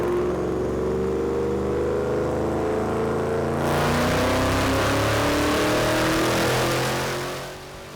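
A supercharged car engine revs on a dyno, its rising tone climbing steadily and loud throughout, then a brighter, rougher surge midway before fading slightly at the end, with no voices.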